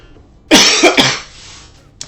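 A person coughs two or three times in a quick burst, loud and close, then falls quiet before a faint brief sound at the end.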